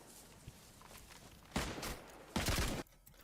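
Gunfire in the video game DayZ comes as two rapid bursts of shots, each about half a second long, rather faint over a quiet background.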